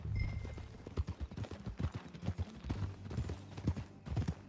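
Clip-clopping horse hooves from Red Dead Redemption 2, a steady rhythmic walk of close, distinct footfalls with a faint whinny near the start, no talk over it.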